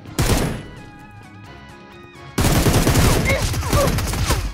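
Gunfire in the video game Peacekeeper Elite comes as a loud opening burst, a quieter stretch with ringing tones, then dense, continuous automatic fire up close.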